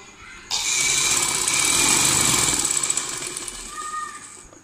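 A sewing machine stitches elastic into a trouser waistband in one steady high whirring run of about three seconds, then slows and fades.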